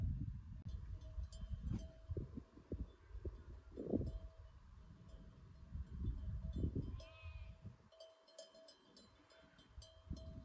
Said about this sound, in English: Do you hear the sheep from the neighbors?